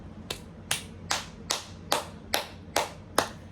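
Eight sharp, evenly spaced claps ring out one after another, close and distinct with short decays, in a quiet room with no talking.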